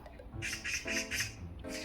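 Harsh magpie squawks repeat in short bursts, loud and close, with a few rasping calls following one another, as magpies harass a stray cat.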